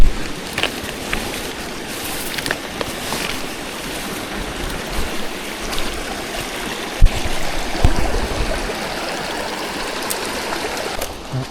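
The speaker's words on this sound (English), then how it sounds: "this gorgeous little waterfall right there" A small waterfall along the Hedrick Lake trail in northern British Columbia pours with a steady, close rush of falling water that stays even throughout, with an occasional faint knock.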